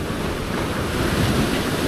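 Big ocean waves roll onto a shore during a fishing outing, making a steady, loud, close wash of surf with wind noise on the microphone.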